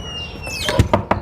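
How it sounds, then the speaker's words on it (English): Three firm knocks on a door land in quick, uneven succession close by, following a short scraping, sliding sound. "I'm going to go outside and make some noise, knock on the door, ring the doorbell and stuff."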